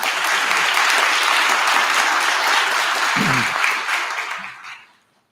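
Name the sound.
audience applause for student leaders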